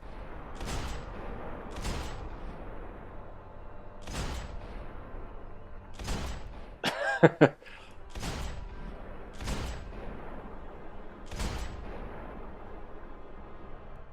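Repeated gunshots from a third-person shooter, Max Payne 3, fire in evenly spaced heavy bursts about every two seconds, with a brief cluster of bright metallic clinks of shell casings scattering midway, loud and with no talking.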